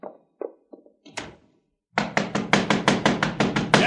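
A door is knocked on, first a few scattered light raps, then a pause, then a loud rapid run of about a dozen heavy pounding knocks close by.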